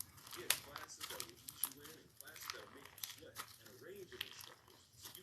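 Crunchy Halloween slime made with silica sand is squeezed and worked by hand, giving repeated close crackling, crinkling bursts in an uneven rhythm.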